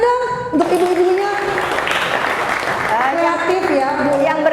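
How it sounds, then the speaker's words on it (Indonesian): An audience applauds the women behind a range of locally made products from Gabus Wetan, with broad steady clapping over a host's voice that continues speaking throughout. "Tepuk tangannya dong untuk ibu-ibunya."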